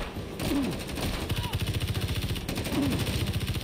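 Rapid gunfire from the first-person shooter XIII, bursts of closely spaced shots running through most of the stretch over game music and effects, fairly loud and without a break.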